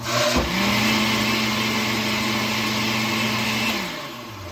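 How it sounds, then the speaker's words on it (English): A blender mixing paper pulp whirs up, runs at a steady, loud hum for about three seconds, then winds down. "I'm just gonna mix it up to the right on the blender a little bit"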